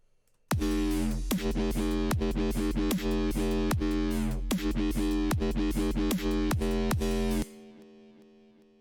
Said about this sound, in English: I am putting delay and reverb on the bass